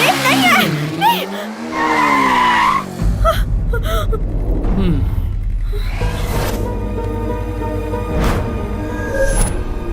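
A motorbike with failed brakes skids, its harsh tire squeal and screech loud and close, with engine roar and dramatic gasping voices mixed in.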